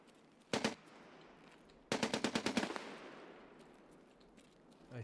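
Gunfire in the shooter game SPT Tarkov near a fortress: a sharp double shot, then after a pause a rapid burst of about eight automatic rounds, moderately loud with faint background hiss and no talk.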